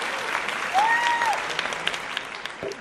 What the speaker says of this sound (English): I just love the clap.